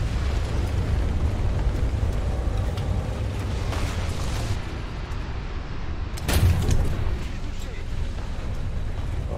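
Tank cannon fire and explosions from an AMX-30B2 battle in War Thunder, a continuous rumbling roar with sharper blasts, one heavy boom standing out late, while a person talks over the action.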